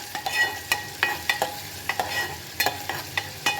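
Onions fry in a pan for a Maharashtrian-style egg curry, a steady soft sizzle broken by frequent close scraping and stirring clatters of a utensil against the pan.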